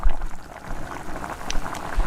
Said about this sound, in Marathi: हे बघा उकळी छान आलेली आहे